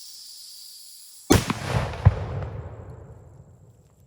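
A single sharp, loud report from an airgun firing a large pointy pellet with a 400-grain charge at a target about 40 yards off, followed by a long echoing decay and a faint distant impact thud.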